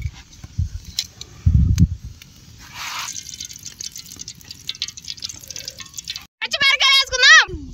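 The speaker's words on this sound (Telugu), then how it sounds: "ముందుగా కొద్దిగా నూనె వేసుకున్నాం." A little cooking oil is poured into a pan in an outdoor village kitchen while preparing chicken shawarma, giving a brief, soft dribbling trickle among faint clatter, with people talking nearby.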